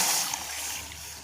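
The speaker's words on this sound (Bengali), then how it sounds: "এখানে আমি 400 ml পানি দিয়ে দিচ্ছি" Water poured into a cooking pot on the stove for sugar syrup, a steady splashing, trickling stream heard close up for a moment.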